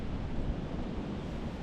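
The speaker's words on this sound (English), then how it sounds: "This wind is tough." Wind over an open bay during a kayak fishing bass tournament comes as a loud, steady broadband rush buffeting the microphone, dense and continuous with no voices.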